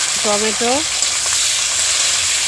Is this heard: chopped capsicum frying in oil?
yes